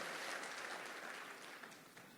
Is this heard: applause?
yes